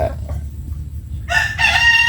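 A rooster crows loudly nearby in two rising bursts, after a few soft clucks over a low rumbling background.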